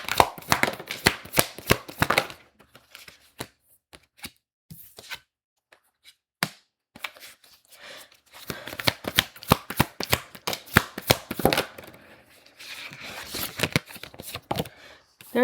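Tarot cards are riffled and shuffled by hand in rapid crisp bursts, loud at the start, a quieter pause in the middle, then longer flurries of flicking, with brief talk in between.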